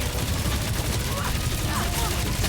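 Rapid gunfire rattles in a chaotic battle in the video game Marvel's Guardians of the Galaxy, a dense, loud continuous barrage of shots with no pause.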